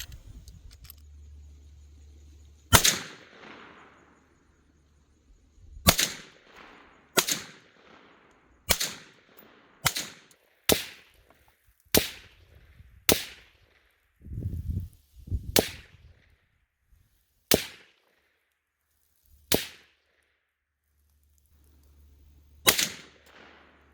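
A Bear Creek Arsenal BC-202 .22 WMR rifle fires through a magazine outdoors: about a dozen sharp, loud cracks, spaced a second or two apart and irregular, each alone with brief quiet between.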